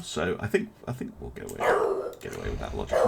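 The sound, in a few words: dog barking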